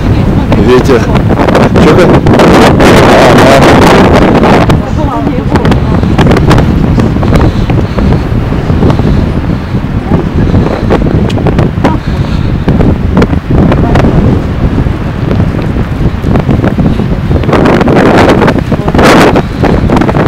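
Strong seaside wind buffets the microphone in loud, continuous low rumbling gusts at the Paralia beach resort in Vityazevo before the 2021 season opens, with faint surf-like rushing beneath and no clear voice.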